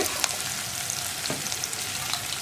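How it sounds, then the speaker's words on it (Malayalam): Onions sizzling and frying in a pan for a green gram curry, with steady crackle and occasional scraping stirs of a spoon, close and alone. "ഇനി സവോളയൊന്ന് കളർ മാറി വരുന്നത് വരെ ഇളക്കി കൊടുത്തുകൊണ്ടിരിക്കുക"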